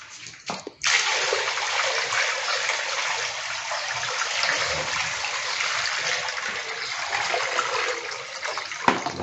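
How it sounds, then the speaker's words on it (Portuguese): Water is poured into an owl-shaped fountain to test its pump, a steady close splashing gush that starts abruptly after a brief pause and runs on continuously to the end. "Para ver funcionando, tem que jogar água, né?"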